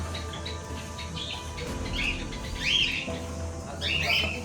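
A parrot squawks at Karnala Fort in Panvel, giving a few harsh, rising calls spaced a second or so apart. The calls sound fairly close over an outdoor forest background with a low hum.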